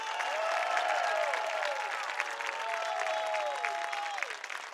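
A graduation audience at a high school ceremony applauds honorees in a sustained, even wash of clapping, with a few rising whoops and cheers mixed into the crowd.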